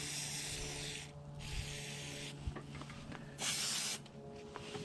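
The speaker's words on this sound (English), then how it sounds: "the aerosol blowing in here will just blow out any residue or gunk that's in there" Aerosol cleaner sprayed into an AR-15 9mm rifle: several bursts of loud hissing, each lasting a second or so with short pauses between, along with faint metallic clicks and handling noises.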